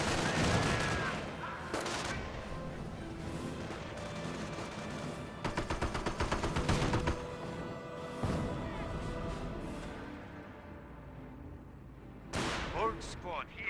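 Grenadiers firing in the strategy game Company of Heroes, bursts of rifle and machine-gun fire with occasional crashes and explosions, dense and loud throughout, with someone talking over the battle.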